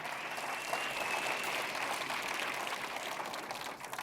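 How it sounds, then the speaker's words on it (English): Steady applause from a conference keynote audience fills the room, a dense, even wash of clapping that holds for about four seconds before easing slightly at the end. "How about a round of applause for Cindy?"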